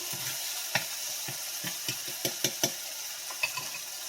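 Oyster mushrooms sauteing in a pan: a soft, steady sizzle broken by scattered light clicks and scrapes of stirring, close but quiet, with no voices.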